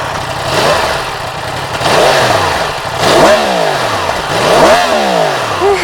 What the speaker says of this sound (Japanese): ではエンジンをかけてみましょう。